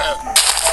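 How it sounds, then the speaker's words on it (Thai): A sudden burst of blast noise erupts partway through, a Minecraft Alpha version TNT explosion that rushes and hisses before fading out. "สียงระเบิด TNT ลืมไปเลย เสียงโคตรตำนาน"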